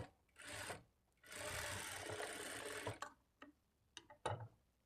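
A sewing machine stitches the back part of a blouse, running a repeated stitch over an earlier one: a short burst, then a longer steady whirring run, followed by several brief stop-start bursts, close and clear.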